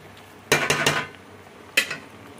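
Desi-style vegetable pasta being served onto a dish: a quick cluster of three metallic clinks of a utensil against the plate, then a single clink, close and crisp with no talking.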